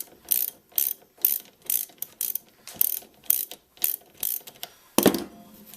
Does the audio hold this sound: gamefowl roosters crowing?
no